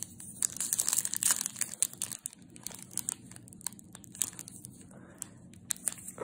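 A trading card pack is torn open in a series of close, sharp crinkling and tearing bursts with brief pauses as the foil wrapper resists, all fairly quiet with no talking.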